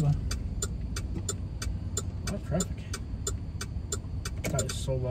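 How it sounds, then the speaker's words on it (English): Road traffic in downtown Tampa, Florida at night: a steady mid-level hum of passing cars fills the whole stretch, with repeated clicking ticks over it and voices chatting now and then. "Traffic. That is so loud and annoying."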